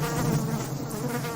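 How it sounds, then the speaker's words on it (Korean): A dense swarm of flies buzzes steadily and close by, a continuous droning hum that holds at an even level throughout, with no voices. "또 파리떼가 몰려들었어요."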